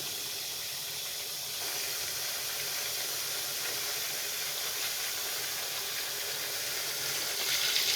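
Water poured into a pan of sautéed flat beans and potato for a hilsa fish curry, a continuous hissing, splashing rush that holds steady for several seconds and swells slightly at the end.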